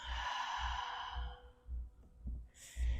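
Ujjayi breathing during Ashtanga yoga practice, air pressed across the back of the throat: a long audible exhale followed by softer, ragged breaths and a sharp intake near the end, close and clear with no talking.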